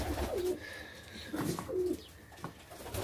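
Birds in a coop coo softly while bathing, with two clear rolling coos among splashy rustling close by.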